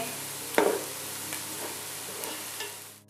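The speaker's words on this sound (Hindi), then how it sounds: "अब हम इसमें लहसुन डाल देंगे और इसे अच्छे से भून लेंगे" Garlic frying with softened onions in a pan for Arabic-style Bukhari rice: a steady soft sizzle with a brief louder stir-and-scrape burst near the start, then quieter continuous frying.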